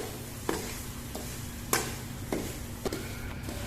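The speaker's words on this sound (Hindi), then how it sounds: "अभी घी हमारा गर्म हो गया है, तो उसमें डालते हैं, इसको भून लेते हैं।" Semolina roasting in hot desi ghee for suji halva gives a faint, steady low sizzle, broken by a few soft spoon scrapes against the pan.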